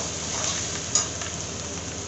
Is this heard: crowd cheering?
no